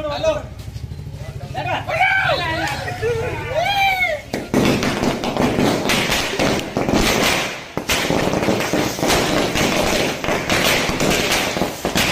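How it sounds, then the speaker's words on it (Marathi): Firecrackers burst at a Yeola street celebration of Kishor Darade's win in the Nashik teachers' constituency election. Voices come first; after about four seconds a loud, dense, continuous crackle of rapid bursts fills the rest. "फटाके फोडत एकच जल्लोष साजरा केला"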